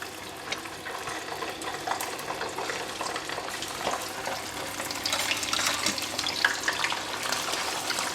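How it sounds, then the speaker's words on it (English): Flower crab dropped into very hot oil in a pan for Malaysian kam heong crab, giving a steady, dense sizzle and crackle that swells slightly louder toward the end, with no talking. "This oil is very hot. So I'm going to put in the crab."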